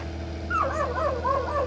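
A dog on a farm where goats are kept gives a quick run of yips and whining barks, fairly close, over a steady background hum.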